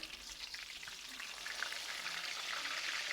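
A breaded chicken cutlet sizzles steadily in a pan after being flipped, a continuous crackling hiss with small pops that swells slightly louder toward the end, with no voices over it.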